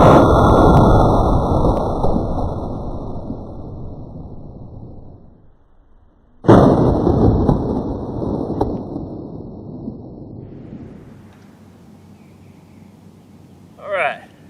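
Two loud, close rifle shots from a 300 Blackout firing Remington UMC ammunition outdoors for an expansion test, each a sharp crack followed by a long rolling echo that fades. A brief faint sound comes near the end.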